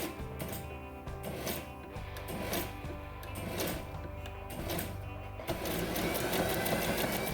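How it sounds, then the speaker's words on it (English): A sewing machine run slowly through a foot controller for quiet-book work, its needle stepping in short uneven bursts and pauses, then settling into a steadier, continuous hum near the end. "I'm going to sew now only with my foot using the foot controller."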